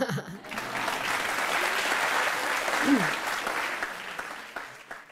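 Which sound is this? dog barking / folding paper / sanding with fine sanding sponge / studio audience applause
studio audience applause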